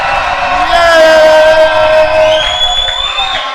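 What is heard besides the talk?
congregation cheering and shouting for joy at worship concert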